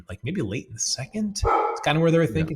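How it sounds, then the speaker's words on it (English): Someone talks steadily while a dog barks and yips close by in the background, its barks overlapping his speech in short bursts. "Sorry for the dog barking there."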